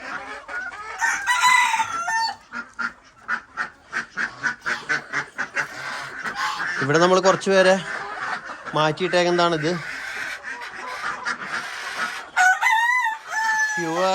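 Chickens and ducks on a farm fill the air with clucking, a rooster crowing and bursts of rapid quacking, the calls overlapping at close range while someone talks among them.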